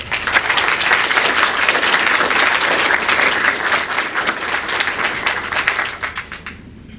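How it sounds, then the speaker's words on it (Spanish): A live podcast audience applauds to welcome guests at an economics and politics panel, loud sustained clapping from many hands that holds steady before thinning out and fading near the end. "invitados con un fuerte aplauso."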